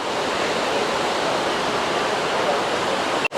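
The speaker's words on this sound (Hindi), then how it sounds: "ये है यहाँ पर सरस्वती नदी" The Saraswati river rushes through Mana village in the mountains, a loud, continuous roar of flowing water that fills the whole moment and breaks off abruptly at the end.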